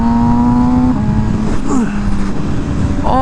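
MV Agusta Rush motorcycle engine revving under throttle on a cold ride, a loud continuous drone whose pitch rises and shifts, with strong wind rush throughout.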